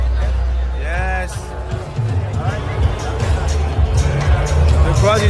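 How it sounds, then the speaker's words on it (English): A crowd gathering for a Manchester United match makes a steady hubbub of chatter close by, with individual voices rising out of the babble and a low rumble of traffic underneath. "The crowd is here."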